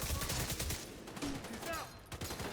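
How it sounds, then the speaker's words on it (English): Gunfire in a video game, a steady spray of rapid shots rattling under a voice, fairly quiet and continuous without clear breaks. "Firing on targets."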